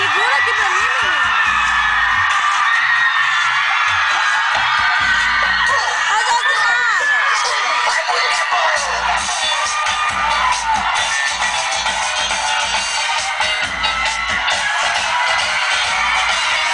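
A crowd at a live show screams and cheers loudly, sustained whoops and shrill yells filling the whole stretch without pause.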